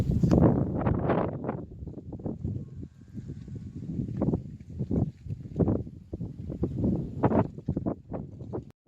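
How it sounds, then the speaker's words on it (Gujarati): Strong outdoor wind buffeting a phone microphone, loud rumbling gusts that rise and fall in bursts throughout. "પવને બહુ આવે છે અવાજ સાંભળાતો હોય"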